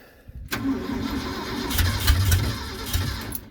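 Truck engine with a 600 Holley carburetor and electric choke, in neutral, cranks and catches after a brief quiet start, then runs at a rough, loud idle close by.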